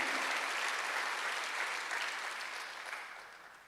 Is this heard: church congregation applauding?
yes